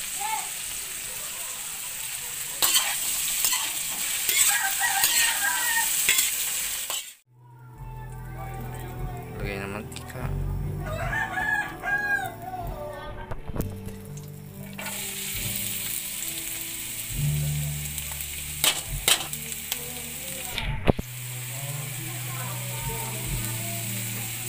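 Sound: frying ingredients until crispy

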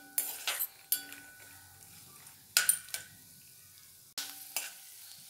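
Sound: peanuts roasting in oil

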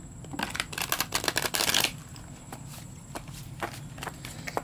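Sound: shuffling a tarot card deck

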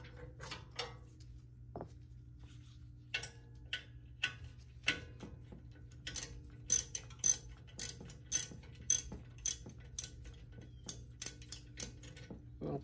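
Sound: socket wrench unscrewing a brake caliper bolt

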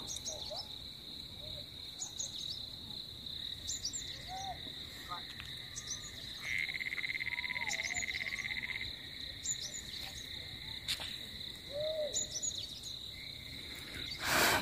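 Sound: frogs and cicadas calling

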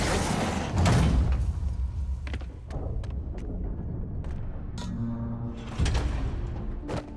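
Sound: trap door opening in Spider-Man video game

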